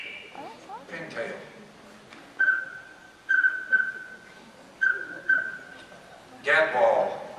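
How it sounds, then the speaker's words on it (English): A pintail whistle blown on a handheld duck call gives a series of short, clear whistled notes in two bursts, fairly loud and close, with a brief breathy burst at the end. "Pintail."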